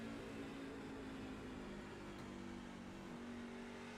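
Race truck engine in an online truck racing game, a steady mid-pitch drone with harmonic bands that dip as the driver lifts off the throttle, continuous and moderately loud throughout.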